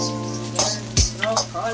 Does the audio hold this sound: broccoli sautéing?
yes